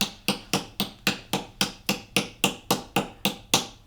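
A ball peen hammer strikes a copper spoon bowl in a shaping dish about fourteen times in a steady, even rhythm, each sharp metallic blow close and distinct with a brief ring.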